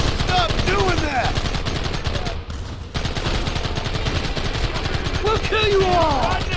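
Rapid, continuous gunfire rattles through a Red Dead Redemption shootout, with dense overlapping shots and occasional ricochet-like whines, loud and nearly unbroken apart from a brief lull midway.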